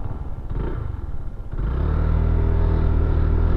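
Honda Click 160 scooter with a Magic Washer fitted in its CVT pulls away, its uneven rumble giving way to a steady, rising drone as it accelerates, loud and close.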